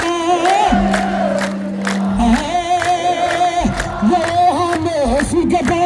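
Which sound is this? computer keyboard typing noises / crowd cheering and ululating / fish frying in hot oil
crowd cheering and ululating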